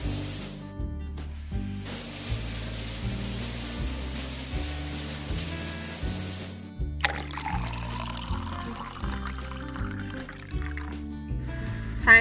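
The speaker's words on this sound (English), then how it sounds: "Get ready for the rinse." Water sprays with a steady hiss to rinse a toy Hummer in a toy car wash, set against bouncy background music, then shifts to a brighter, softer spray partway through.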